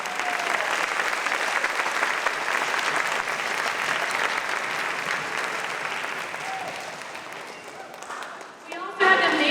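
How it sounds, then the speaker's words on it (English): An audience at a 5th and 6th grade school spring band concert applauds steadily, a dense wash of clapping that slowly fades before a louder burst right at the end. "Can we give a round of applause to Mr. Zill?"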